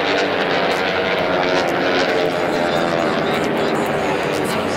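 T-6 race airplanes roar past at the Reno Air Races, a loud, dense propeller-engine drone filling the air throughout, with a race announcer talking over it.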